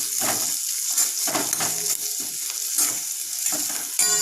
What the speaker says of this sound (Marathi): आता आपण यामध्ये थोडी चिमूटभर हळद टाकूयात आणि व्यवस्थित परतवून घेऊयात